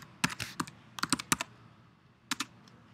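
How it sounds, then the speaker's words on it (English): A computer keyboard clatters with quick, close keystrokes in short irregular bursts, then a pause and two final taps. "I can just start typing."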